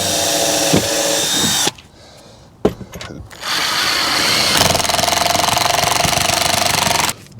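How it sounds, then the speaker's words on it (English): A power drill whirs loudly in two long bursts, drilling a pilot hole in tongue-and-groove boards, separated by a short pause with a clunk, close and continuous. "I'm gonna drill a hole."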